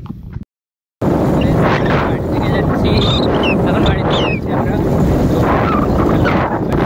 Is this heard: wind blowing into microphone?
yes